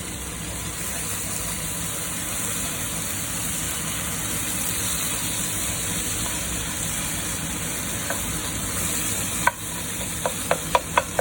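A chilli capsicum jam mixture with kaffir lime leaves is stirred in a pot, a steady close bubbling, hissing texture throughout, ending with a few sharp taps of a utensil against the rim.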